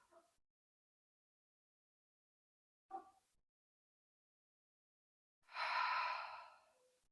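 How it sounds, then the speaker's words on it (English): Slow, deep breaths during a relaxing yoga cool-down, each drawn in through the nose and let out through the mouth. Two short, soft breath sounds come first, then one long, fuller exhale, all alone in a quiet room. "See if you can inhale through the nose and exhale through the mouth."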